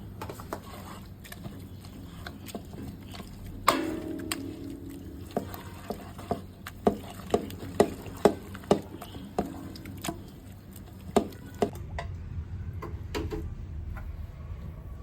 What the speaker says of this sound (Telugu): ఉప్పు వేసి మెదిపేసుకుందాం.